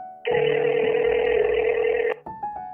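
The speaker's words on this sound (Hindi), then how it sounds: "फोन मिलाता हूँ" A steady electronic tone holds for about two seconds, cuts off, and is followed by a few shorter beeps, like a phone line connecting.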